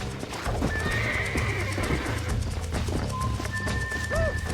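A horse whinnies loudly over steady clip-clopping hooves in the video game Red Dead, with a tonal electronic whistle and faint background music.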